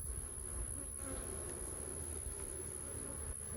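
Honeybees hum around an opened hive in a steady, close, dense drone with a faint high whine above it; no voices.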